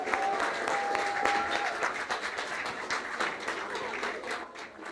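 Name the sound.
audience applauding the children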